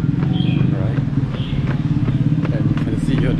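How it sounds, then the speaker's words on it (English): Motorcycle taxi engine idling and puttering on a Bangkok street, a steady low rumble close by, with a person talking over it and light street clatter. "The motor taxi"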